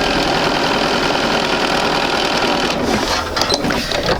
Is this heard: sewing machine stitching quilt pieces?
yes